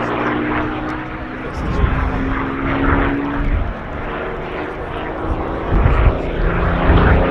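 Hispano Buchon, a Bf 109 derivative fitted with a Rolls-Royce engine, flying at the RAF Cosford Airshow, giving a steady loud propeller engine drone that swells and fades slightly over several seconds, with crowd noise and talk underneath.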